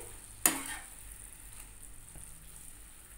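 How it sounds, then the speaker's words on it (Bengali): Okra seasoned with Kashmiri red chili powder frying in a pan, a soft steady sizzle opened by one sharp scrape of a spatula, then faint stirring noises, quiet and close with no talk. "এবার খুন্তি দিয়ে সব কিছুকে একটু ভালো করে মাখিয়ে নিতে হবে"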